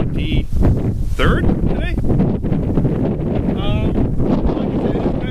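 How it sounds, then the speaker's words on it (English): Gusty wind buffets the microphone with a low, steady roar while a person speaks briefly over it, outdoors during a December shooting test of a Spyder E-MR5 paintball marker. "it's kind of windy out here"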